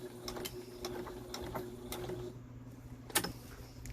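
A sewing machine stitches a cloth face mask, quiet rapid mechanical clicking in short bursts with a louder clack near the end, close but faint.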